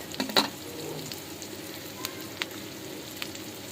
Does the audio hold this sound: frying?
yes